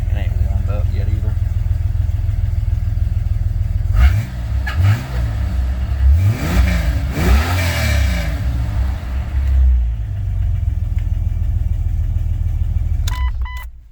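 A Jeep XJ engine runs after tuning, revving up and down with rising and falling pitch under a steady drone, while a person talks over it.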